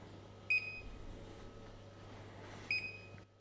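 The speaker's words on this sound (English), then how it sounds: "it's just going to beep until you press OK or confirm on the app" A sous vide cooker signals it has finished with two short, clean electronic beeps about two seconds apart, close and clear over a quiet hum.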